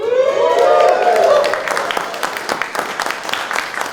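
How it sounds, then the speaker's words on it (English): Convention audience at an improv Dungeons & Dragons show at Gen Con 2024 gives a modest round of applause, opening with a rising whoop and cheer before settling into scattered, steady clapping that thins out toward the end. "That was a little sad of an applause"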